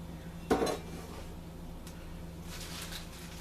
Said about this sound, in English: I'm going to add about a cup of shiitake mushrooms, maybe a little more